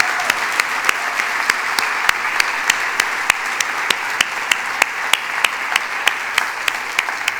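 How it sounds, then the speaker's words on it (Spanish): Church congregation applauding in a steady, rhythmic unison clap that repeats evenly about three times per second over a continuous hum of crowd noise. "fuerte el aplauso a Cristo"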